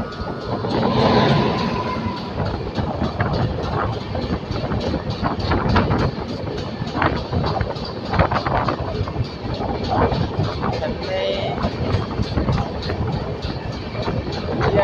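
Chennai Central express passing close alongside on the opposite track, a loud continuous roar and rattle of wagons with rapid clattering transients and wind buffeting throughout.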